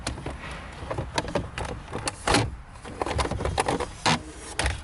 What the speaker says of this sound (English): just pull on the four corners of the main console, and that just comes right on out.